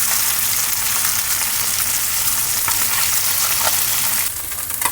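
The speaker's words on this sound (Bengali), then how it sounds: "এবার আমি মাছগুলো সব দিয়ে দিয়েছি, লালচে করে ভেজে নেব।" Small puti fish fry in hot oil, giving a loud, dense, hissing sizzle close by that eases slightly near the end as the pan is handled.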